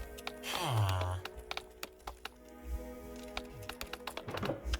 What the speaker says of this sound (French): mais le bruit du clavier dans le jeu